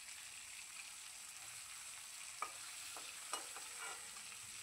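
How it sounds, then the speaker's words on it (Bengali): Pieces of aayer fish fry lightly in a pan with a steady, soft sizzle, broken by a few sharp pops and crackles near the end. "হালকা এপিট উপিট করে ভেজে আমি তুলে নিচ্ছি।"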